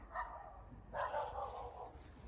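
Dogs bark on a street in Ukraine, two short bursts of barking at moderate distance, the second louder and longer, over a low rumble of outdoor background noise.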